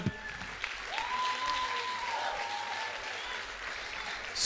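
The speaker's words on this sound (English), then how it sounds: "You better clap your hands, people." An audience at a sermon claps their hands in a steady, moderate patter of many hands heard from a little distance, with faint crowd murmur throughout.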